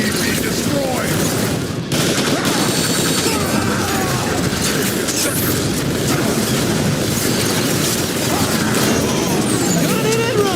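Gunfire and explosions in the Transformers: War for Cybertron video game: loud, dense, continuous volleys of shots and booms with game voices mixed in.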